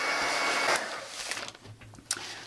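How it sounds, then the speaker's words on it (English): A heat tool blows hot air across a journal page in a steady, close whooshing drone that wavers a little and thins toward the end, with a few light clicks and handling knocks. "now I'm going to get this dry real quick with my heat tool"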